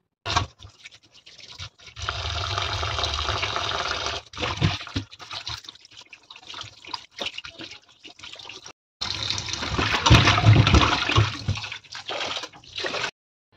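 Pieces of rohu fish are rinsed and rubbed under running tap water, with loud splashing gushes broken by short pauses and scattered wet handling noises, close by.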